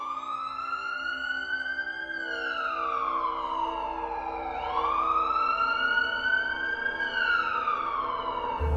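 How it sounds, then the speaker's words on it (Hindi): An ambulance siren wails, rising and falling in long, slow sweeps, loud and steady throughout with no voices. "वो बंदा शॉन को बेहोशी की हालत में ही एम्बुलेंस के अंदर डाल देता है।"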